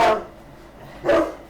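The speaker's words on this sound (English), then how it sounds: "The dogs are going to start barking." Dogs bark twice indoors, one bark at the start and another about a second later, moderately loud and slightly distant, with a low room hum between them.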